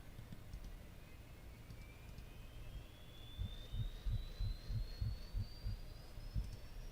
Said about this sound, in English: okay, so the APU is starting